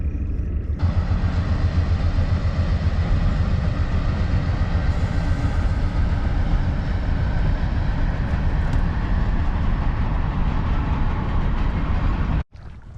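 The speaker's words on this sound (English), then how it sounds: "Up here, you get the coal train." Loud continuous rumble and rattle of a coal train passing close by, sustained for about twelve seconds before cutting off abruptly.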